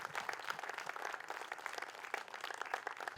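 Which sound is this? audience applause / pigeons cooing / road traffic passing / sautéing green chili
audience applause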